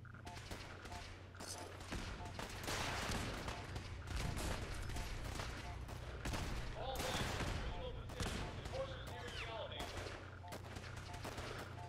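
Enemy gunfire in Fallout 4 crackles through a steady background of game ambience, with repeated shots and bursts over about twelve seconds, some sharp and close and others more distant.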